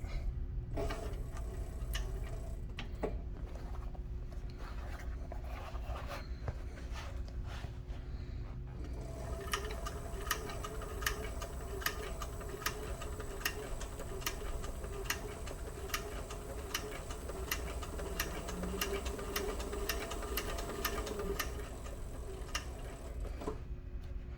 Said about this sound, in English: I always try to keep my presser foot on the same level of leather as where I'm actually sewing.